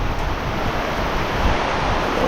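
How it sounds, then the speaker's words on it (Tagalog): Heavy rain pours down outside a nipa hut in a dense, unbroken roar, loud and close with no voices over it. "Ang lakas ng ulan, no."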